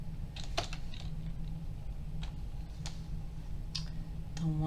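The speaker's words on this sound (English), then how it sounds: "I'm going to go into my system and I am going to type in" A computer keyboard is typed on in a few light, scattered clicks, faint and close over a steady low hum, with a short voice starting at the very end.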